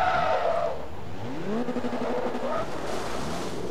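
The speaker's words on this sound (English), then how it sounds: "Oh my goodness, that was an incredibly hard hit." A racing car in the Forza racing video game skids through a hard crash at Mugello, with a loud sweeping tire squeal and engine tone rising and falling over a few seconds, no voices.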